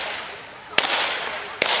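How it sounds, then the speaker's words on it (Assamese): Two sharp gunshot cracks ring out during a protest where vehicles are being set on fire, the first at about 0.8 s and the second near 1.6 s, each standing clearly over a steady roar of crowd noise. "এয়া গুলিৰ শব্দ আমি আপোনালোকক এই মুহূৰ্তত শুনাইছোঁ"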